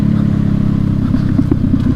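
Single-cylinder KTM 390 Adventure motorcycle engine climbing in revs while ridden off road, a steady close droning hum with rising pulses toward the end.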